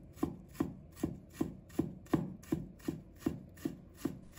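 Knife chopping fresh ginger on a cutting board: a steady run of about eleven crisp, evenly spaced chops, close and clear with no talk.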